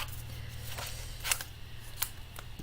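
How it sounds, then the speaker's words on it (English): Scissors give a couple of faint, brief snips while cutting paper at a crafting table, heard as isolated crisp clicks over a steady low hum. "I need scissors for that."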